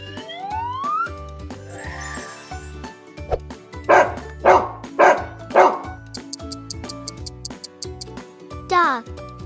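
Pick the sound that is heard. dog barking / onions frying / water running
dog barking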